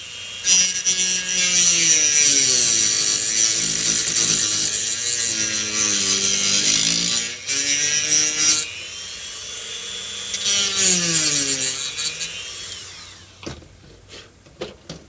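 A hand saw cuts through a plastic part of a Monogram Battlestar Galactica model kit in close, steady back-and-forth strokes with a rasping, squeaky pitch, pausing briefly between runs of cutting, with a few light knocks near the end.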